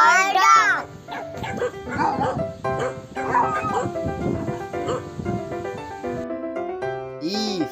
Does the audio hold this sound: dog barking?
yes